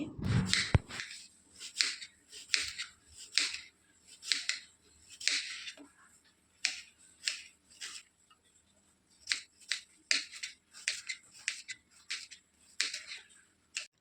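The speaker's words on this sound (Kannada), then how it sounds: "ಈಗ ನಾನು ಒಂದೆರಡು ಈರುಳ್ಳಿಯನ್ನು ಸಿಪ್ಪೆ ತೆಗೆದು ಸಣ್ಣದಾಗಿ ಹೆಚ್ಕೊಳ್ತಿದ್ದೀನಿ" Onions being peeled and finely chopped with a knife in a home kitchen, heard as crisp, regular cuts against a board in quick bursts with brief pauses, close up and without voices.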